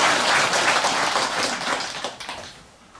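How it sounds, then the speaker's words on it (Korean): A congregation at a Buddhist temple Dharma service gives a round of applause, a full burst of many hands clapping that thins out and tapers off over a few seconds. "네, 여러분 박수 한번."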